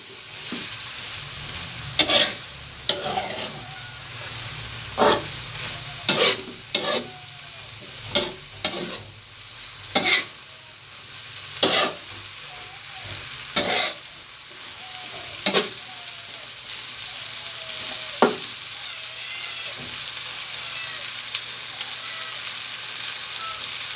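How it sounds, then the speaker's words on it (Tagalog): Pansit noodles being stirred in a hot wok (kawali), a steady sizzle broken by sharp, repeated clacks and scrapes of the utensil every second or two, close and loud, with no voices. "Halo-haloin natin para dumi hindi dumikit yung ating niluluto sa kawali"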